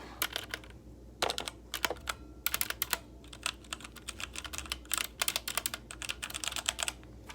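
Fast, crisp clacking of keys on an E-Element Z-88 mechanical keyboard, typed close up in irregular bursts and pauses, with no speech.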